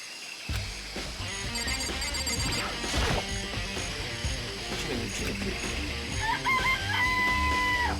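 Chickens clucking in the Danganronpa video game, a few short clucks mixed into busy game music and sound effects, with a rising electronic tone near the end.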